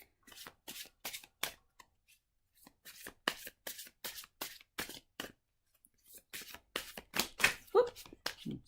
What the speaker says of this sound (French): je suis pas très douée hein, pour le battage de cartes encore